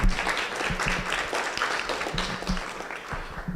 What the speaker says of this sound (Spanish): yo creo que te mereces otro aplauso